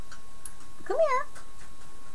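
A cat gives a single short meow, rising then falling, near and fairly clear against a quiet room.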